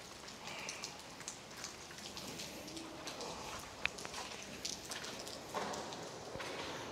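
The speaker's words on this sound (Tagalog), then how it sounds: "Ulan." Steady rain falls at Calauit Safari Park in Coron, Palawan, a soft, even patter of drops on surfaces with one sharp tap standing out, quiet and continuous.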